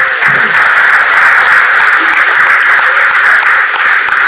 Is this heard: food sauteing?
no